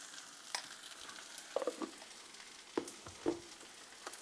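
Coriander powder being stirred into a drumstick leaf and moong dal curry in a pan, soft scraping strokes and intermittent sizzling bubbles up close, with no talking.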